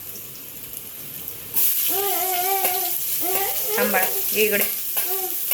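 Chopped onion drops into hot oil with garlic and sets off a loud, steady sizzle, with a voice and clinking utensils over the frying.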